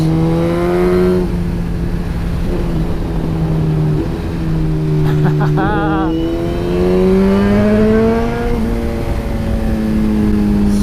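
Suzuki GSX-R sportbike engine on a road ride, a loud steady drone from close by with throttle blips and shifts in pitch as revs rise and fall, wind rushing underneath throughout.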